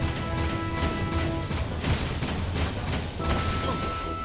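Enemy vehicles in Jak 3 fire repeatedly, a series of heavy blasts and crashing impacts in a rough rhythm over a constant rumbling din of combat.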